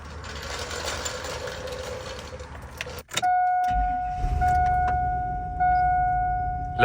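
A 2000–2006 Chevrolet Tahoe with a fresh 3-inch front suspension drop pulling away for a short drive, engine rumbling near and fairly loud after a door clunk, with a steady chime ringing over it.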